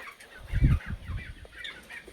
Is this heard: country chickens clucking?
yes